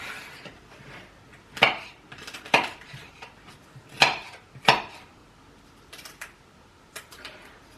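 A sharp knife cuts potatoes into thin slices on a wooden board, giving a handful of crisp, separate chops with short pauses between them, close and fairly loud with nothing else going on.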